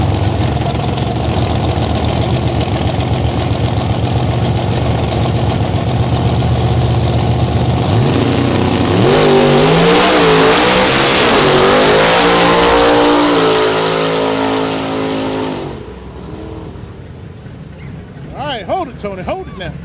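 Drag race cars launch down the strip at Palm Beach International Raceway, engines roaring loud and building to a long full-throttle howl that sweeps past and fades, with a commentator talking over the noise.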